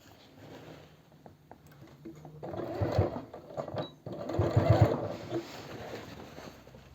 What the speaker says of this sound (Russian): Я попытаюсь строчить по подкладке, попадать в шов.